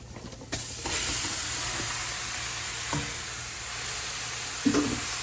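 Seasoned chicken for brown stew drops into a hot pot and sizzles with a steady, close frying hiss, with a couple of soft clinks and stirring scrapes.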